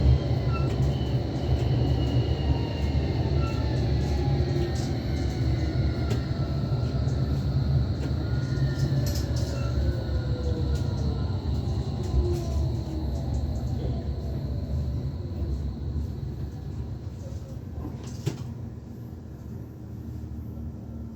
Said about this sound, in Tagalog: Nasa crossing tayo guys, kaya napahinto ang train